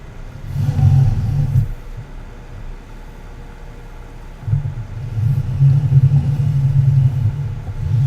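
A farm tractor pulling a mower in Farming Simulator 19, a low droning engine rumble that swells, eases off for a few seconds, then rises again and holds steady, close and fairly loud, with no voices.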